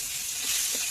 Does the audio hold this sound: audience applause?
no